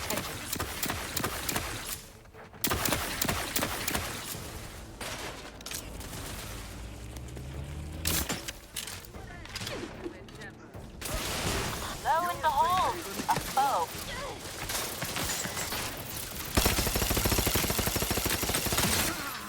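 The player's gun firing in The Outer Worlds 2, in repeated bursts of shots scattered through a busy mix of game sounds and effects, with a voice briefly heard.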